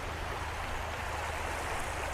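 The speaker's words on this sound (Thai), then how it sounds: "อันนี้เป็น ลำธาร หน้าเต็นท์เรานะ" A campsite stream flows right in front of a tent at Kaeng Lan Rak, a steady, soft, broadband rush of running water with no voices over it.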